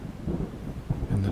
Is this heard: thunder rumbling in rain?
yes